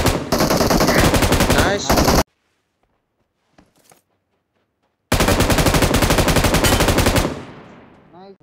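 Rapid automatic gunfire from a mobile shooter game rattles in two long, loud bursts separated by a near-silent pause, with a brief voice in between.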